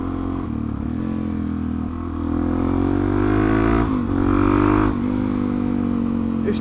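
A Suzuki DRZ400SM supermoto engine runs steadily and loudly while riding, with the revs climbing and surging in a couple of punchy pulls before easing back.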